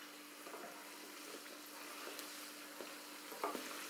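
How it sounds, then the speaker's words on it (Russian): Belyashi, meat-filled dough pastries, fry in heated oil with a faint, steady sizzle and occasional soft pops and a brief clink near the end, quiet and close. "мы сформировали первые, и опускаем в разогретое масло."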